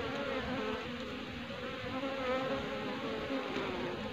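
Dense, steady buzzing of many honey bees swarming close around a hive, continuous and unbroken, with no other sounds.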